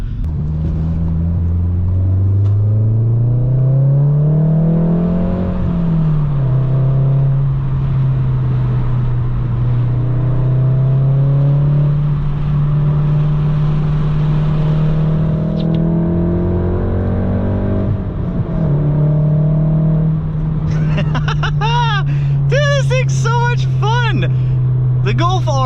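Volkswagen MK7 Golf R with a Nameless Performance catback exhaust, a steady loud engine drone that shifts pitch as it revs, with a brief lift near the end and a burst of higher tones after.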